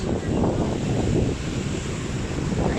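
Sea waves and gusting wind along the Legazpi City boulevard make a rough, steady roar. Wind buffets the microphone in close bursts, and the surf washes underneath with no speech.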